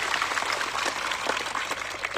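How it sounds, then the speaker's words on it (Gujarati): Large outdoor crowd at a tribal rally in Khedbrahma applauding together, a dense continuous wash of hand claps sustained throughout with no talk over it. "સૌ માટે એકવાર જોરદાર આપણે તાળીઓ પાડી લઈએ."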